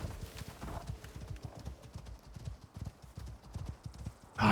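Rhythmic clip-clop of horse hooves trots steadily throughout in the video game Icarus, with a brief horse whinny rising sharply at the very end.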